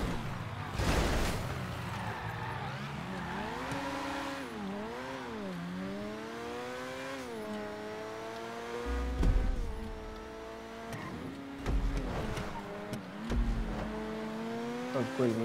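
GTA 5 race car with full customization revving and shifting through gears, the engine pitch climbing and dipping, with tire squeal and low crash thumps near the middle and end.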